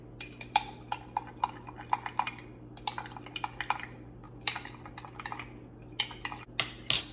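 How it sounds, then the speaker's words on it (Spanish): A utensil stirs a shrimp fajita marinade of Cajun seasoning and lemon in a bowl, making steady, repeated light clinks and scrapes against the bowl over a faint background hum. "Voy a mezclar bien los ingredientes."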